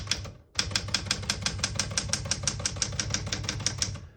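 A 1976 Smith-Corona Classic 12 portable typewriter types in a brisk, even run of sharp key strikes, close and loud, after a brief pause at the start, with no talking.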